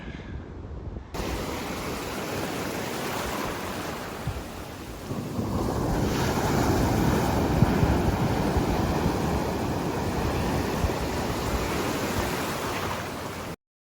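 Surf breaking on a wide sandy stretch of Cocoa Beach, Florida, a steady roaring wash of waves that swells louder midway and holds, with no voices over it.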